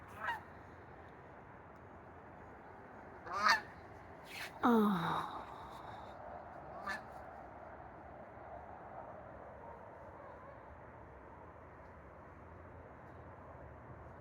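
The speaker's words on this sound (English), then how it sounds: "So over here on this side, there's geese." A few scattered goose honks, some distant and one louder group near the middle, over quiet outdoor ambience with a brief spoken exclamation.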